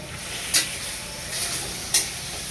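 Adobo being stirred in a pan, a soft steady sizzle with two sharp scraping strokes of the spoon against the pan, close and alone.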